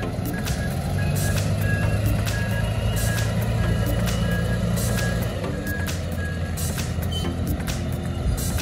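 A crane at work amid heavy machinery, with steady reversing beeps over a low continuous engine rumble that runs without pause, close and loud, with no talking.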